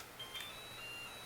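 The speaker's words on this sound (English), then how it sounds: "that's the timer for the rice" Kitchen timer for cooking rice beeping in short, thin electronic tones, faint against quiet room background, with no talking.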